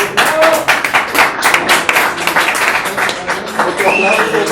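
Close crowd applause and clapping for the founding members at a gathering, uneven bursts of claps with voices and cheers mixed in.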